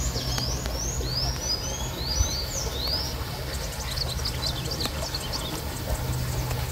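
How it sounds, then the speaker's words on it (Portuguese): A small bird beside a reservoir gives a run of quick, high chirps, repeated several times close by over a steady low outdoor rumble. "Mas olha só esse passarinho que tá aqui"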